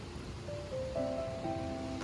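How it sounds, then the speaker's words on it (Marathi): Waterfall flowing near rice fields in Kokan, a steady soft wash of falling water heard from a distance, with a few faint tonal whistles drifting over it. "आमचा धबधबा असा वाहतो."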